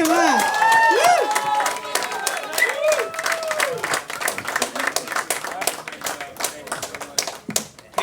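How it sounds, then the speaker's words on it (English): An audience claps and cheers in a dense, steady round of applause, with whoops and shouts rising over the clapping. "let's give a big round of applause for Matt Zetts."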